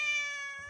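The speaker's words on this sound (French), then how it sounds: "Taz, tu veux dire bonjour au chat ou pas?" A cat gives a single sustained meow, fairly faint and alone with no talk over it.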